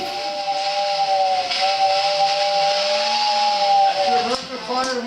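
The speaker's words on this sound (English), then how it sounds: "American fire whistle" A steam fire whistle at a street parade sounds a long, loud, steady multi-tone blast lasting several seconds, its pitch wavering slightly before dipping near the end amid crowd noise.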